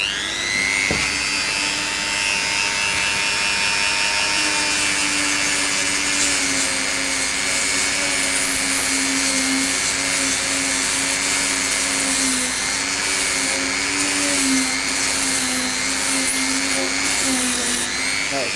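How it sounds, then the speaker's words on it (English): A Dremel rotary tool grinds foam out of a fin plug hole in a surfboard, a continuous high-pitched whine with a steady buzzing undertone lasting throughout, close and loud. "you'll know how deep you actually need to sand all the foam out with your Dremel"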